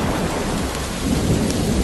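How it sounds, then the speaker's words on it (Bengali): Heavy rain pours in a dense, continuous roar with deep rumbling thunder underneath, loud and close throughout. "হঠাৎ দমকা হাওয়া থেকে প্রবল ঝড় বৃষ্টি শুরু হলো।"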